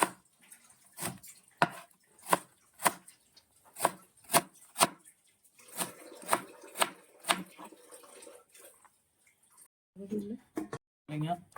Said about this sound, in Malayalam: ഈ പരുവത്തിന് പടവലങ്ങ അരിഞ്ഞെടുക്കാം.